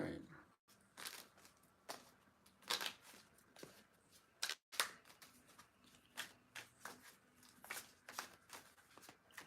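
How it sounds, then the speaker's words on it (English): Playing cards are riffled and shuffled in quick repeated bursts of crisp flapping, close by and fairly quiet, with soft talking mixed in. "Let me shuffle these up really nice."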